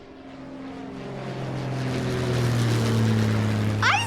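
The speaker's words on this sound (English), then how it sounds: "Airplanes fly high in the sky." A propeller airplane flies overhead, its steady engine drone and low tonal hum swelling gradually louder as it nears, heard alone with no talk over it.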